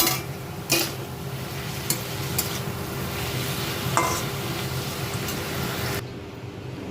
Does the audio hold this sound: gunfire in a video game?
no